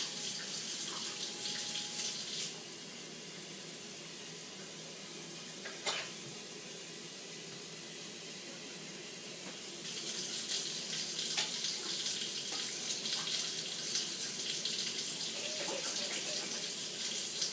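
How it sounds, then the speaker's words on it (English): Tap water runs steadily into a container while butter is rinsed in a lab, a continuous hiss of splashing that swells louder in the second half, with a faint clink midway and no talking. "we're going to carefully pour that water back out without losing our butter"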